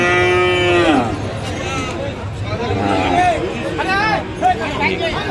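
A Friesian bull at the Ambari cattle market in Dinajpur lets out a loud, drawn-out moo near the start, then lower calls follow over a steady hubbub of crowd chatter and voices.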